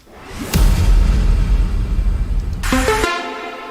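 A second impact effect in an FL Studio big room track hits suddenly with a heavy low boom and noisy wash. A bright, brassy tonal burst follows near the end before the sound cuts off abruptly.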